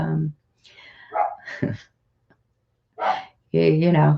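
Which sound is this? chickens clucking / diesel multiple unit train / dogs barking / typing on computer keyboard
dogs barking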